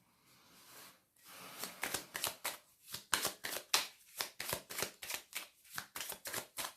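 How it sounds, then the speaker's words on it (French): Tarot cards riffled and shuffled close by in a quiet room, a quick run of crisp flapping bursts that grows steady and rhythmic, with no talk. "Je vais rebattre parce que j'avais la carte."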